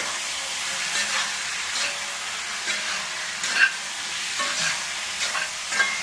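Orange chicken stirred in a hot pan, a soft continuous sizzle with a faint steamy hiss and occasional light scrapes and taps of the spoon, no voices.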